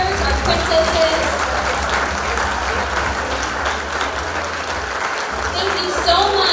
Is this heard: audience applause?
yes